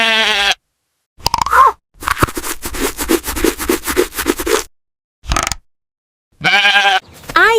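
Sheep bleating in a farm setting, several separate wavering baas spaced apart with a rapid scraping, rattling burst between them, loud and close with no talk.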